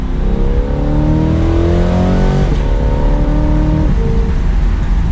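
A stock 2020 Chevrolet Corvette C8 engine revs hard at full throttle, climbing in pitch through gear changes with a brief dip midway, loud and close.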